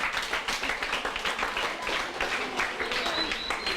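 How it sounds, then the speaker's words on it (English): A crowd applauds young recorder players at a public event in St. Vincent and the Grenadines, fairly faint, steady clapping with some voices mixed in underneath. "Let's give them a round of applause."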